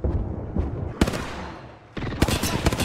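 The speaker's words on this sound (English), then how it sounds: "They're getting shot." Gunfire in the battle royale video game Apex Legends, several sharp shots and short bursts cracking in irregular rhythm, some close and loud, others more distant.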